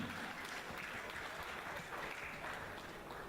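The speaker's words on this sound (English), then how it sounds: "Can we have a round of applause" Steady, dense audience applause fills a hall at a school alumni reunion, continuous clapping from many hands throughout with no pauses.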